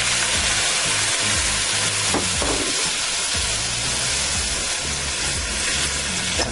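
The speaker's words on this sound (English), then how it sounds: "I'm going to deglaze this pan with some cooking sherry" A steak pan hisses loudly right after cooking sherry is poured in to deglaze it, giving a dense, continuous sizzle and some scraping that stay close and loud throughout.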